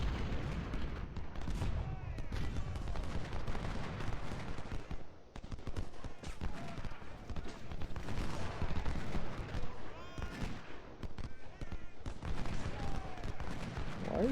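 Dense, continuous musket volleys from the Ultimate General: Civil War game rattle throughout, overlapping crackling shots in a massed battle din, loud and unbroken for the whole stretch.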